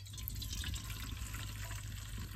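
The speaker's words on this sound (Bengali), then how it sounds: "জলপাইর গরম জলটা ফালিয়া জলপাই কিনা অল্প জুড়িয়ে নিব।" Hot water is poured off boiled olives into a sink, giving a steady splashing, running-water wash at close range with no voices.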